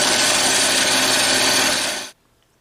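A bandsaw cuts through metal knife blanks with a loud, steady, broadband rasping hiss that cuts off abruptly after about two seconds, leaving near silence.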